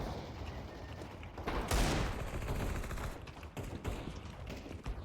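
Gunfire in a competitive video game quarter-final match, ending in a headshot: a steady crackle of shots under the game's ambient noise, with one loud, close blast standing out early on.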